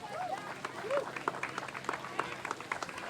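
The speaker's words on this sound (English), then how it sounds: "So I'd love to give them a round of applause for all the work that they do." A crowd applauds the Boston Parks Department team at an outdoor playground ribbon cutting, steady scattered clapping with voices and whoops mixed in throughout.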